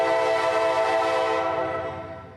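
CSX freight train led by Dash 8 diesel locomotives, heard as a loud sustained horn blast with layered tones that gradually fades as the train moves away.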